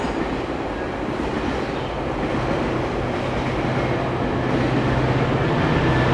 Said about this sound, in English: we're going to hear the sounds of the train too